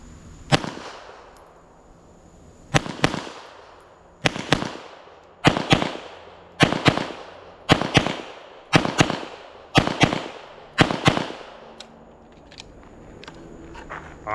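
Pistol shots from an MPA DS9 competition pistol at an outdoor range: eight sharp, loud reports, spaced about one second apart after an opening shot and a pause, each with a quick echoing tail.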